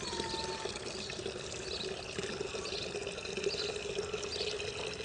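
Water poured from a well supply for washing outdoors, a steady continuous splashing pour that runs throughout at moderate loudness with faint background noise and no talk.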